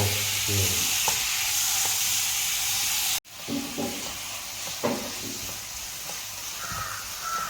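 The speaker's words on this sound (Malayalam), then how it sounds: "തക്കാളി ഇടുന്നുണ്ട് ഇനി നമ്മളിതൊന്ന് വഴറ്റി" Tomatoes sautéing with masala in a pan make a steady sizzle with scraping stirs and clinks, broken by a sudden brief dropout, with a bird cawing faintly in the background.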